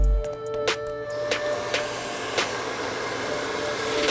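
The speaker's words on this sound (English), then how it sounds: "this dryer is up on full speed and you can hear it" A hair dryer runs at full speed during an Egyptian blowout, a loud, steady close-up roar of air with a few faint clicks and brush sounds over it, and no talking.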